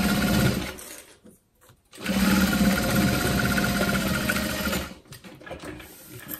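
Sewing machine stitching around the bottom of a zip-top tote bag, a loud steady mechanical whir that runs nearly continuously, pausing briefly once before resuming and then trailing off.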